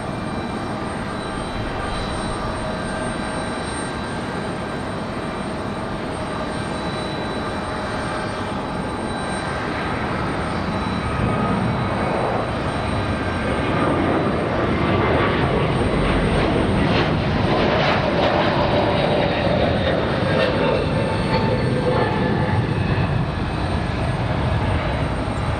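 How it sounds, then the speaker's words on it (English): An American airliner jet lands at Raleigh-Durham airport, its engine roar growing steadily louder and fuller as it nears, a broad continuous rumble with a rising whine that peaks toward the end, heard from a distance outdoors. "Got an American ready for touchdown here."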